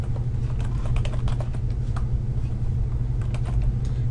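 Steady typing on a computer keyboard while entering a field name in a database table design, a continuous stream of close key clicks over a low constant background hum, with no talk.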